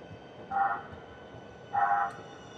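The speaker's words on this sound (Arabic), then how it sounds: "هذا القطار اللي بدخلك على مدينة سانتياغو." A train arriving in the city of Santiago sounds its horn twice in short, distant toots over steady rumbling background noise.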